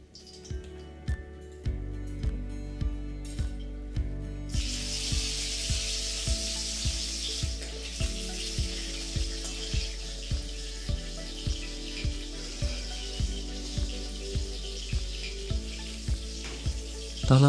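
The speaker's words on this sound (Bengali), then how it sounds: "একে একে সবকটাই মাছ ভাজা হয়ে গেল" Hilsa fish pieces sizzle and fry steadily in hot oil, a continuous crackling hiss broken by regular soft knocks and clinks throughout, close and fairly loud with no talking.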